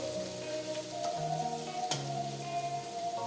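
Ginger sautéing in oil for Onam-style ginger curry, a quiet, steady sizzle with faint crackles and a soft tonal hum, heard alone without talk.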